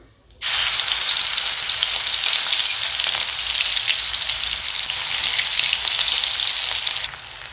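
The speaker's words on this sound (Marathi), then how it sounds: "यामध्ये थोडंसं ऑइल टाकूयात यामध्ये थोडेसे जिरे घालायचे आहेत हे मिक्सरला काढून घेतलेलं मिरची आणि लसूण" Cumin seeds and ground chilli and garlic paste hit hot oil with a sudden loud sizzle that holds steady for several seconds, then drops off sharply near the end.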